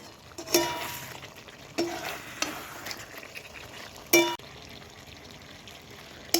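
Chicken meat sautéing in a pan, a soft steady sizzle broken by several sharp spatula scrapes and clanks against the pan, close and with no talk.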